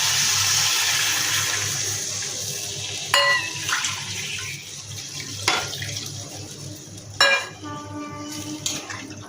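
A bowl of water poured into a cooking pot for a village-style raw fish curry, a steady splashing rush that slowly fades, with a few sharp clinks of metal utensils against the pot.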